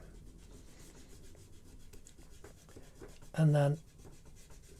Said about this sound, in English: I'm just rubbing out all the big areas